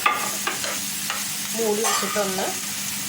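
Onions and salt are stirred in a hot frying pan for a prawn roast masala, with a spoon scraping in short strokes over a steady soft sizzle, close up.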